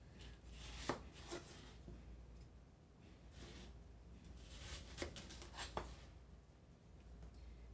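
Knife cutting apple slices into bite-sized pieces, a few sharp chopping taps on a board at irregular intervals, quiet and close against low background hiss.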